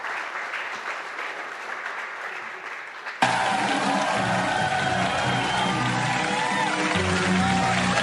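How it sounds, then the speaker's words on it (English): A hall audience at an evening talk on art heists and the FBI claps to welcome a guest. Faint murmuring gives way to a sudden burst of steady, full applause that continues to the end. "Please give Mr. Wittman a round of applause."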